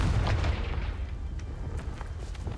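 A Confringo explosion spell in Hogwarts Legacy, a heavy low boom at the start that fades into a rumbling tail with a few scattered pops.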